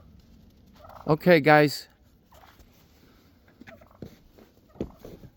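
Wild turkeys foraging for seed and grain before a snowstorm, one nearby bird letting out a loud rapid gobble, followed by soft scratching and faint calls while someone speaks briefly.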